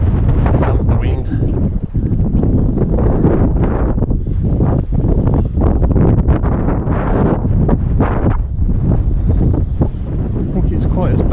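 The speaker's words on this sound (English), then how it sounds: "Comes the wind." Strong wind buffets the microphone at the coast while fishing for cod, a loud continuous roaring rumble with gusty surges throughout, with a voice talking briefly over it.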